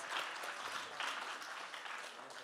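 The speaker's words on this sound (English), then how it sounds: "And applause to Greta as well" Applause from an audience at a live-streamed event, steady clapping of moderate loudness that keeps going across the whole moment with no talk over it.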